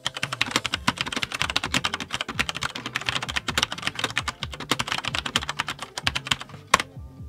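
Rapid, uneven clacking of keys on a wired Cherry USB computer keyboard, steady close typing with short pauses and a sharper keystroke near the end, no voices.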